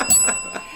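A small desk bell gives a bright, close ding as a rim-shot gag, with a second fainter ring after it and no talk over it.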